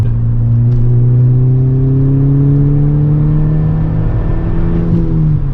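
A 2012 Volkswagen MK6 GTI with a 2.0-litre turbo engine and an aftermarket diverter valve pulls hard in third gear, its loud, close engine note climbing steadily in pitch.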